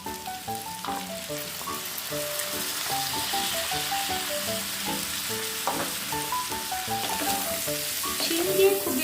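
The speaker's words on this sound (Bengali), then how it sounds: "শিম দিয়ে খুব বেশি ভাজার প্রয়োজন নেই" Beans fry in a pan for a spinach and prawn curry, a steady close sizzle with scraping stirs and clinks of a spatula throughout, no voices.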